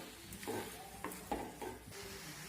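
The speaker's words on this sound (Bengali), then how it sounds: "জলটা দেওয়ার পর একটু আমি নাড়াচাড়া করে নেব।" Boiled tomatoes being stirred with a little water in a kadai over a high gas flame, giving a few soft scraping strokes and a faint sizzle, close and quiet.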